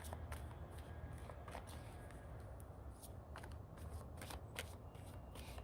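Tarot cards are shuffled and drawn close by: soft, quiet riffling and flicking with scattered sharper snaps of card edges.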